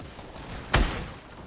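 A single gunshot in Fortnite, a sharp loud crack with a brief tail, standing out from quiet game background.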